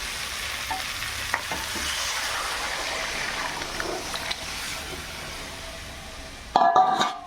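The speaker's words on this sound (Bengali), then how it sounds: "এবার আমি এই ডালটা এর মধ্যে ঢেলে দিচ্ছি" Mung dal goes into a pan of fried fish-head mixture, giving a steady sizzle and frying hiss with light stirring, then a louder burst of clatter and sputter near the end.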